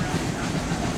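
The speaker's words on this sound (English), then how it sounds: "Like many zoos, the Birmingham Zoo does have a train ride." A zoo train ride rumbling along at Birmingham Zoo, a dense, steady roar of wheels and motion filling the moment with no distinct clicks or breaks, loud and close.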